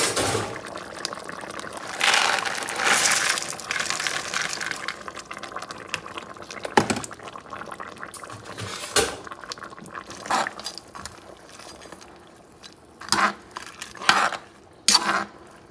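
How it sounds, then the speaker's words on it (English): Beans tipped into simmering oxtail stock in a pot, with splashing liquid, a bubbling simmer and several louder splashes and clatters near the end, close by and with no talk. "I'm going to add the beans now."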